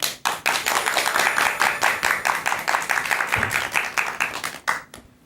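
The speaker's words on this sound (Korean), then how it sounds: "큰 박수 부탁드립니다" A lecture audience gives a big round of applause at a laughter-exercise talk, with a crisp burst of many hands clapping in a lively, slightly rhythmic pattern that stops abruptly near the end.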